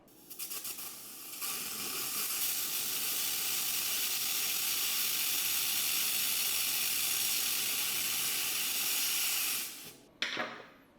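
A XLaserLab X1 Pro handheld laser cutter hisses steadily as it cuts 10 gauge stainless steel, a loud, continuous sizzling rush lasting about eight seconds before cutting off abruptly, followed by a brief faint burst.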